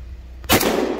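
A firearm cracks out one loud, sharp report close by as rounds go into a snowman outdoors, after a short quiet lead-in, with the blast ringing briefly afterward.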